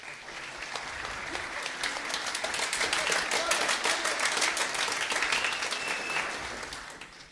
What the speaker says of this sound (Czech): jestli můžete udělat takový jako jemný potlesk